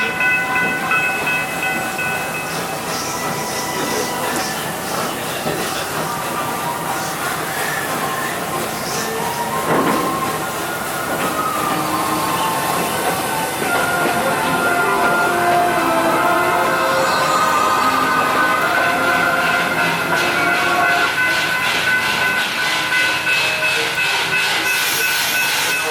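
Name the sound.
theme park steam train ride, Busch Gardens Williamsburg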